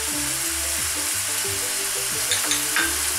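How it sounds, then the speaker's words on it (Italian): Garlic and shallot sizzle in a pan for a pasta dish with sun-dried tomatoes, a steady, close frying crackle with a few brief clinks of stirring over a low hum, with no talking. "Andiamo ad aggiungere adesso anche l'aglio e lo scalogno."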